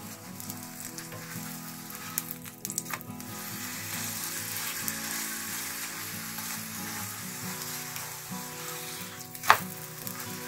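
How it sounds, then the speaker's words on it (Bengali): Potato paratha frying in refined oil in a pan, a soft steady sizzle with occasional light scrapes and one sharp clack near the end, fairly quiet with no talk. "সুন্দর পরোটাটা ভাজা হয়েছে।"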